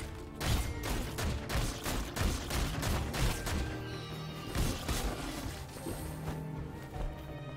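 Rapid bursts of gunfire in the video game Foregone, repeated shots and crashing impacts in quick uneven clusters, loud and close, easing off toward the end.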